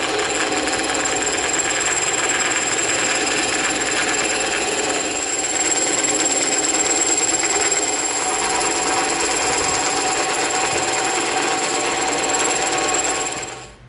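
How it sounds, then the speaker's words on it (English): A bandsaw slices through EVA foam in a steady, continuous rasping whine that holds at a constant loud level for nearly fourteen seconds before cutting off at the end, with no talk. "There it is with the bandsaw."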